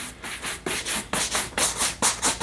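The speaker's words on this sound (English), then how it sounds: "Just keep going over it until you're satisfied with the sheen that you're getting." A shoe being buffed to a shine with a cloth, steady back-and-forth rubbing strokes in a regular rhythm, close and moderately loud with no talking.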